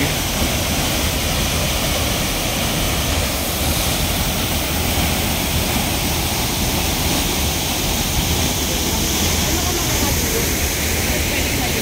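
Tuwasan Falls waterfall roars with water crashing down hard, a loud steady broadband rush filling the whole stretch without pause.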